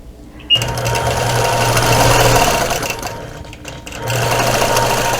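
A sewing machine quilting a patriotic quilt, stitching fabric along ruler markings at half-inch spacing, runs in a steady close mechanical whir that pauses briefly midway and then resumes.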